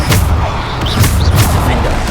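Bombarda spell blasts in Hogwarts Legacy, a few booming explosive thuds over a dense, loud layer of battle noise lasting a couple of seconds.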